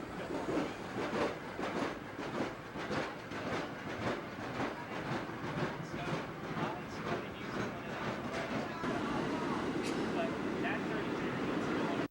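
A train rolls steadily along the track with rhythmic clickety-clack of wheels over rail joints, loud and continuous, with faint voices in the background.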